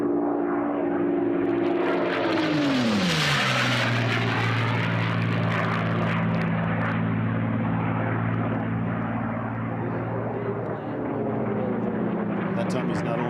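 A P-51 Mustang racing at the Reno National Championship Air Races roars loud and close, its piston engine pitch dropping sharply as it sweeps past, then droning on steadily with some background noise.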